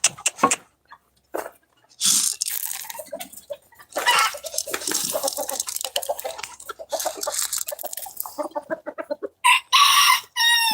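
Roosters in a pen clucking and squabbling in irregular bursts, with a loud crow rising near the end, close and clear with quiet gaps between calls.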